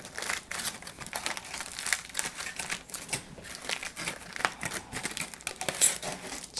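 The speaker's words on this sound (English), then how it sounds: "what you want to do is you want to peel off the foil" Foil crinkles and tears as it is peeled off a chocolate mocha fudge cake, a quiet close-up string of irregular crackling rustles that runs on without a pause.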